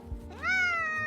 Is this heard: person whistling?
no